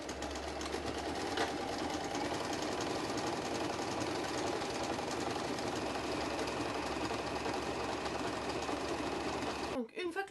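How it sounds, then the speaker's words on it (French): A sewing machine runs continuously at close range, stitching around the edge of a fabric Russian doll with a fast, even mechanical chatter that stops abruptly near the end. "de manière à pouvoir passer par-dessus avec la machine à coudre, ce qui simplifie la tâche"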